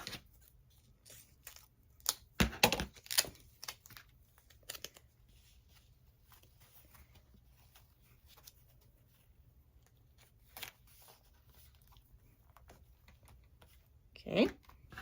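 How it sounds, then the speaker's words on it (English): Duct tape crackles and rips as it is pulled and pressed onto fabric stretched over cardboard, in short loud bursts early on and again at the end, with quieter handling between. "What I'm going to do is I am going to tape my fabric"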